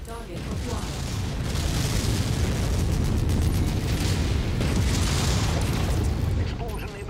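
In the MechWarrior 5 game, a sustained explosion roars loud and dense, with rumbling booms and crackling debris filling the whole stretch and swelling twice.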